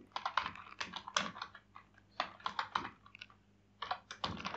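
Fingers clatter across a computer keyboard while JavaScript code for mouse events is typed, in quick irregular bursts of clicks with short pauses between them, close and clear, with no talking.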